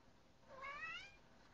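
A house cat gives a single rising meow, faint and a bit distant, against a steady low hiss of room noise.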